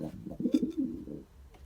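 A pigeon coos nearby in low, throaty rolling notes, a short soft burst against quiet background.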